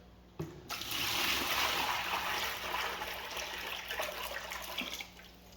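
Water pours from a small reverse osmosis spigot into a bucket. A sudden start is followed by a steady, splashy rush that runs several seconds, then tapers toward the end.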